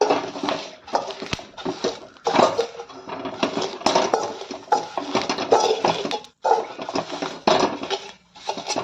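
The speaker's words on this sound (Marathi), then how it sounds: "हे आपल्याला तांब्याच्या बुडाच्या साह्याने आपल्याला स्मॅश करून घ्यायचं आहे" Fried green chillies and garlic smashed with the bottom of a copper pot, a run of loud, close metallic thuds and clanks striking in an uneven rhythm against a hard surface, with short pauses between bursts.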